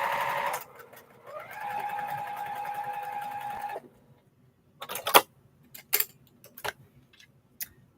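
A sewing machine stitching fabric with a presser foot fitted: a steady mechanical whir runs for a few seconds, then stops, followed by a handful of sharp clicks and taps nearby.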